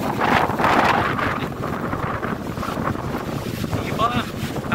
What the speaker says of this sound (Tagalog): Napakalakas lang ng hangin.